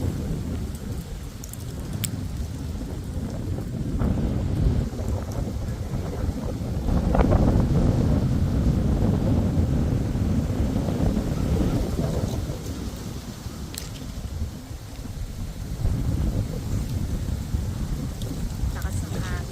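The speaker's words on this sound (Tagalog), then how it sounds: "Lakas ng hangin." Strong autumn wind roars steadily into the microphone on a scenic walk near seagulls, a dense rumbling buffeting that swells and eases without pause.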